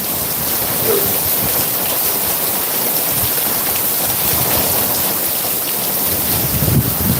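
Steady rain pours down during a night thunderstorm with lightning, an even dense hiss at constant loudness with low rumbles underneath and no voices.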